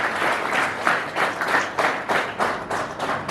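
An audience at a Gujarati lecture on education and values claps in rhythmic, unison bursts, roughly three per second, loud and close with no voices over it.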